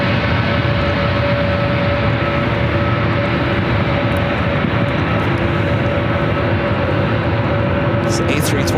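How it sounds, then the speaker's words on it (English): An Aer Lingus A330 airliner starting to taxi at SFO, a steady broad engine roar with a constant hum held throughout, moderately loud and unbroken, with a few faint high clicks near the end. "Shamrock, the A330 heading back to Dublin now,"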